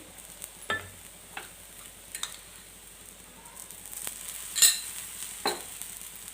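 Dhirde batter roasts on an iron tava, with a soft continuous sizzle under occasional spatula scrapes and taps on the pan.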